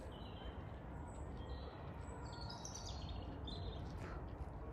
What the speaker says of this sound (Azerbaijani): Bu da çöl quşları.